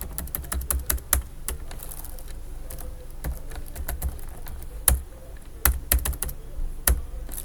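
Rapid, irregular clicking of keys on a computer keyboard, close and fairly crisp, with bursts of keystrokes and occasional louder taps over a quiet room hum, no talking.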